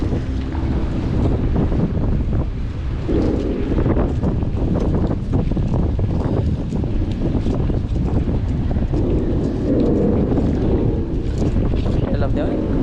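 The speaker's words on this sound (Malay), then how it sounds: "Kuat angin pagi ni." Strong morning wind roars and buffets the microphone continuously at the First Penang Bridge, with rumbling gusts throughout; a voice talks faintly beneath the noise.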